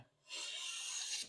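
A Sargent transitional wood plane cuts a single continuous shaving, a bright close rasping hiss that swells in, holds steady for about a second, then stops abruptly.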